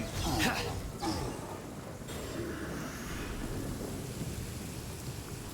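Steady heavy rain in Genshin Impact hisses throughout, with a rumble of thunder near the start fading into the continuous downpour.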